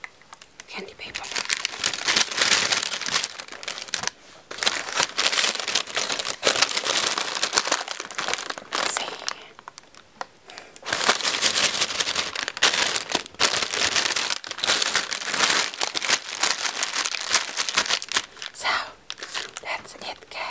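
Candy wrapper paper crinkles and crackles close up in bursts of rustling while Swedish Fish gummies are handled, with short pauses between.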